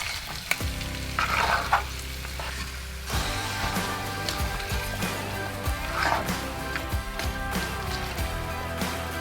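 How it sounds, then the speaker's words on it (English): Five eggs sizzle and scramble in a camping pan, a steady frying hiss broken by repeated scraping stirs and low thumps of the utensil against the pan, close by with no talk. "let this cook down, stir it up a couple of times, let the eggs naturally scramble"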